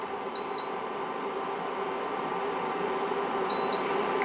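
A Gourmia XL oven's control panel gives two quick double beeps, a few seconds apart, while bake is being set; the beeps ring out clearly over a steady low fan hum.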